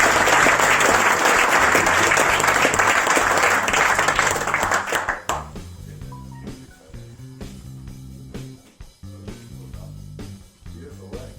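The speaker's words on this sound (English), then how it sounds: "a big round of applause for David Taylor on 119 points" Sustained audience applause at a precision rifle competition awards gathering, loud and close for about five seconds before breaking into scattered claps as music plays underneath.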